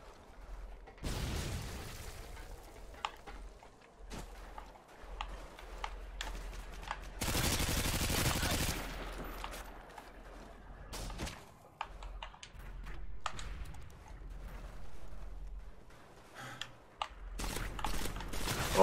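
Burst-fire gun in Modern Warfare 2 on PS3, short clusters of loud shots separated by quieter stretches of game ambience and clicks, with one long dense barrage in the middle.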